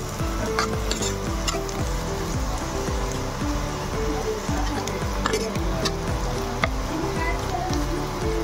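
Onions fry in a pan until browned, a loud continuous sizzle broken by rhythmic scraping and stirring strokes of a spatula, close up with no talking.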